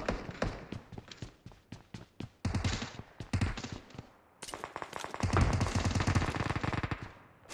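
Rapid bursts of gunfire and shotgun blasts in PUBG on the Vikendi map, loud and close, sharp repeated cracks in quick clusters with short pauses between volleys.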